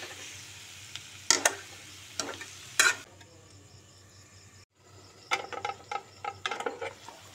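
Ginger and garlic sizzle in oil in a pan for Assamese-style pork, with soft, steady frying noise broken by sharp scraping bursts of a utensil stirring, one brief pause, then quicker clustered stirs.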